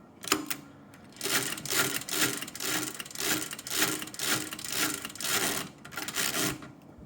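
A Marchant XL mechanical adding machine works through a subtraction as its carriage slides: close, dry ratcheting clatter in a steady series of rasping bursts, with no talking.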